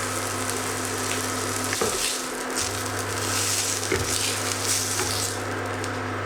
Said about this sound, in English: Just heat some oil and put the teeny burger in.